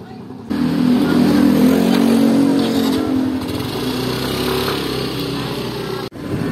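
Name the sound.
motorcycle riding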